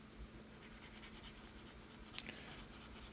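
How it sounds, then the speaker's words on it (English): An eraser rubs across a lecture board in faint, quick repeated strokes, a soft scratchy swishing close by in an otherwise quiet room. "I'll erase a bunch of this stuff so I can write more"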